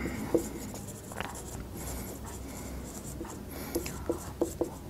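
A pen scratches across paper in close, continuous strokes with a few sharper taps near the end, over a steady background hiss.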